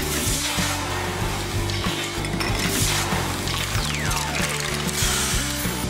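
Industrial shredder crushing aerosol air freshener cans, a steady loud grinding with rhythmic mechanical clanks and crunching metal throughout, no voices.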